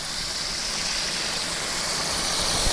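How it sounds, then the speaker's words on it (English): Livewell spray bar inside a large portable fish cooler, pumping a steady rushing hiss of water into the cooler, close and continuous with no pauses. "But there's the spray bar running"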